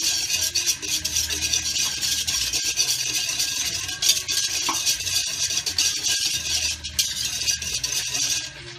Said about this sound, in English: So, whisking the sauce together. I need a silencer on this.